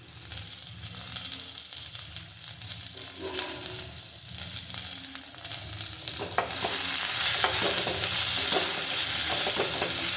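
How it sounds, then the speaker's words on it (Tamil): Tomatoes sauté in a pan for a quick chutney served with idli and dosa, with steady close sizzling and frying under repeated stirring scrapes that grow louder toward the end; no one talks. "இந்த தக்காளி நல்லா வதங்கி வரட்டும்."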